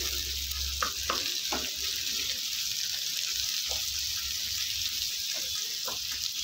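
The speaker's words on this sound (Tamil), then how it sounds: "வெங்காயம் நல்லா லைட்டாக கோல்டன் ப்ரௌன் வர வரைக்கும் வதங்கட்டும்." Onions fry in a pan toward golden brown with a steady, even sizzle, broken by occasional soft taps and scrapes of stirring.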